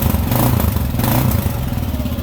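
Kawasaki KLR 650 single-cylinder thumper engine from 2018 running steadily up close, a loud low pulsing throb with mechanical clatter, like a dirt bike.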